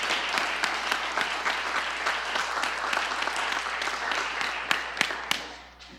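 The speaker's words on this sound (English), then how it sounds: "Give her a round of applause." An audience applauds a student at a school board meeting, with dense, steady clapping from a crowd in a hall that carries on for several seconds and then fades out at the end.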